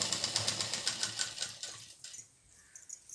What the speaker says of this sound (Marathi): फोल्ड करून घ्यायचा परकर आणि शिलाई मारत जायची